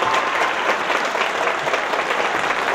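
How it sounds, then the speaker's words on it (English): A school audience claps for graduating seniors at an Aztlan folklórico event, a dense and steady round of applause from a crowd in an indoor hall. "one more big round of applause for all our seniors."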